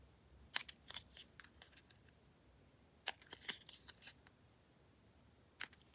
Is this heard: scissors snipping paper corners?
yes